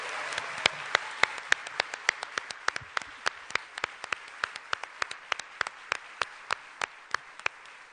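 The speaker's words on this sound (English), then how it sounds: "how about a big round of applause for the servers and all the people who worked on our dinner tonight?" Clapping at a gala dinner, heard as a sparse run of sharp, evenly spaced single claps over a quiet room murmur rather than a full crowd ovation.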